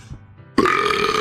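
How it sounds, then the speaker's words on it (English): A single loud, drawn-out human burp that breaks in abruptly after a moment of quiet and rasps on steadily to the end. "Excuse me, I had to burp."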